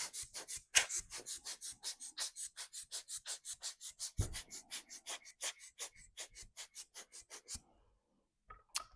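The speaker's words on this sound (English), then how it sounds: "I'm going to use my blower" A hand-squeezed craft air blower puffs onto alcohol ink on a gel printing plate in a steady run of about thirty quick, close, breathy bursts, then stops, with no talking.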